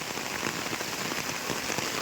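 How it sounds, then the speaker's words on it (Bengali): Heavy rain pours down in a dense, steady hiss, drops drumming on a nearby surface with no voices over it. "মুসলধারে মেঘ ভাঙা বৃষ্টির মতো বৃষ্টি হচ্ছে"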